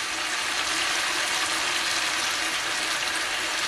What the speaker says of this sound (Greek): Θα προσθέσουμε